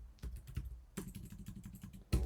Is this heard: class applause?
no